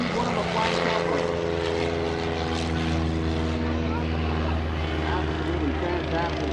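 A STOL propeller aircraft takes off at an airshow competition, its engine droning loud and steady with a strong, even propeller hum throughout and crowd or commentary sounds faintly beneath.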